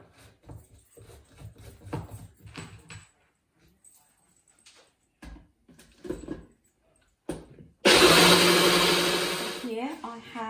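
A kitchen blender grinds soaked raw rice into a smooth paste, starting abruptly and running loud and steady for a few seconds after scattered talk and clatter.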